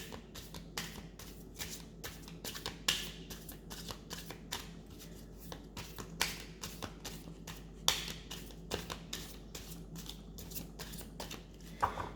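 Tarot cards being shuffled by hand, a steady run of soft riffling slaps and paper flutters with sharper snaps every few seconds, close up and with no talking.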